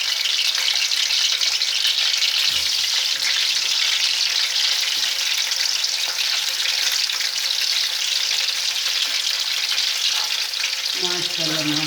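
Chicken pieces frying in a pan for an aloo gosht curry, giving a steady, loud broadband sizzle throughout with occasional stirring scrapes, and no talking.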